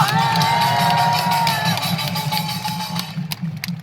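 Crowd at an outdoor rally cheering and applauding in a sustained roar, with whoops and shouts rising over it before it thins out toward the end.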